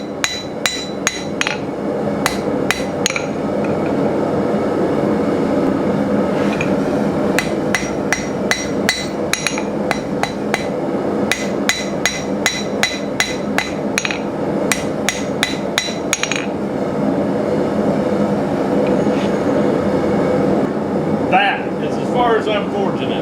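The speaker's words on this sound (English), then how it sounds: "As I'm forging it." A blacksmith hammer-forges a left-handed hook knife, with loud, close, rapid metallic hammer blows striking in rhythmic bursts over a steady background hum, pausing briefly between volleys.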